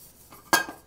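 A metal lid is pressed onto a camp stove pot, producing one sharp close clink of metal on metal with a short ringing tail, preceded by faint handling noise.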